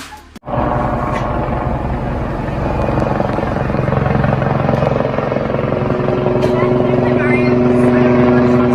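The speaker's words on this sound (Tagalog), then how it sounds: "Pansamantalang nagpaikot-ikot ng halos 11 minuto ang helicopter na ito sa uncontrolled airspace." Helicopter circling at low altitude, about 400 feet over Glendale in uncontrolled airspace, its steady loud rotor thump and engine drone continuous and close throughout.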